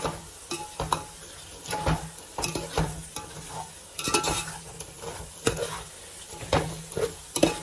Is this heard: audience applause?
no